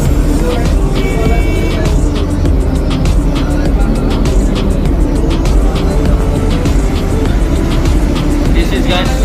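Buses and traffic fill a city bus stand in Puri, Odisha, with a dense, continuous roar of engines, horns and passing vehicles up close, busy and unbroken throughout.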